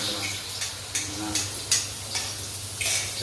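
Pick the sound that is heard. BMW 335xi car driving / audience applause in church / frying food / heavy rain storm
frying food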